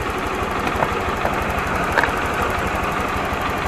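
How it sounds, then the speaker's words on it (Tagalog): Honda Click 125i scooter motorcycle engine idling steadily up close, a continuous low rhythmic chug with faint mechanical ticks and no voices. "So maandar ang makina natin."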